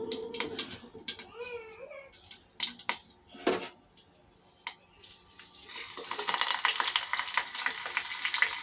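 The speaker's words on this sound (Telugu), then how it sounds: "ఇప్పుడు ఈ పోపు దినుసులు మొత్తం ఇందులో వేసేసుకుందామండి" Tempering spices go into two to three spoons of hot oil in a small pot for drumstick dal rasam. Sparse clicks and some tonal bird-like calls come first, then a loud dense sizzle rises and holds.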